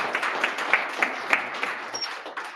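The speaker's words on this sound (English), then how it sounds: "Round of applause." Audience applause at the close of a Hacknight talk on documenting war crimes, a short burst of clapping from a modest crowd with individual claps audible, fading slightly toward the end.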